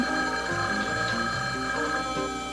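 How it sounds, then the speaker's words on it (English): A telephone rings steadily in a domestic drama scene, a continuous electronic trill repeating at moderate loudness with no voices over it. "Answer the phone."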